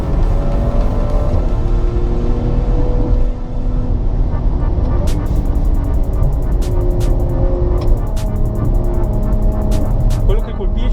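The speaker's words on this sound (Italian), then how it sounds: "mentre il 6 cilindri italiano allunga con prepotenza" Maserati Levante S Q4 with its Italian six-cylinder engine pulling hard under acceleration, a steady loud engine drone with rising tones throughout, mixed with road and cabin noise and some speech.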